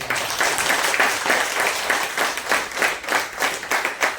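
Steady applause from a group at a business training session, dense overlapping claps pulsing in rhythm and continuing loudly throughout.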